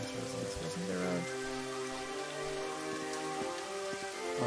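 Rain falling in the video game Daggerfall, a steady patter of drops on surfaces that holds at an even level throughout, with faint tonal game sounds beneath and no talking.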